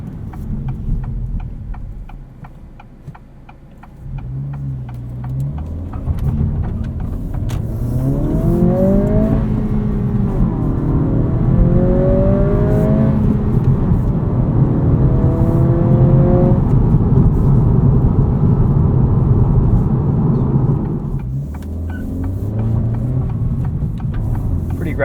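A 2023 Acura Integra with a manual gearbox accelerates hard in sport mode, engine note rising through several gears with clear shift dips, loud steady interior drone, then easing off near the end.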